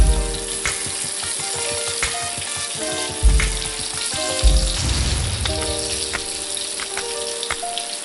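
Green tomato slices fry in a hot pan, a steady loud sizzle with crackling pops and a few clatters as they are turned, no voices.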